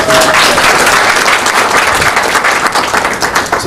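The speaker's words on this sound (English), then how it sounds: "Give her a warm hand of applause." Audience applause at a small business award event, a dense steady wash of many hands clapping at full volume for about four seconds, with a brief voice tone near the start.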